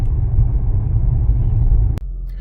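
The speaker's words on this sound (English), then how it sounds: "Do you hear that exhaust?" GAC Emzoom R-Style exhaust giving a deep steady rumble as the car pulls away in traffic, fairly loud and continuous, broken by a sharp click near the end with the engine note dropping afterward.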